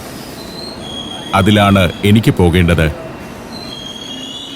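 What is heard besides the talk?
train passing at a German railway station platform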